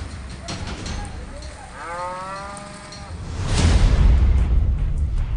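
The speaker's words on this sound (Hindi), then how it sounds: "जहां सिर्फ गाय और भैंस बांधी जाती है" Cattle tethered at a rural sub-health centre in Sehore, Madhya Pradesh, where only cows and buffaloes are kept; a single drawn-out moo rises clearly around the middle, followed by a louder low rumbling noise toward the end.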